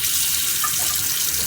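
Steady hiss of water running from a faucet into a hotel bathroom sink, continuous and close, with no voices.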